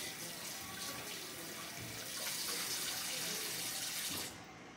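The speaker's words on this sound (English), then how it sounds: "So, wash this egg up." Tap water runs steadily over an egg being rinsed in a kitchen sink, a close, even hiss that stops abruptly near the end.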